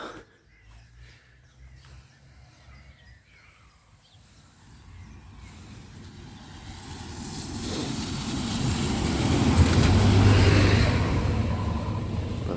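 A bus rolls past on a country road between Machynlleth and Corris, its engine rumble rising from quiet to a loud close pass around the tenth second before easing slightly as it moves on.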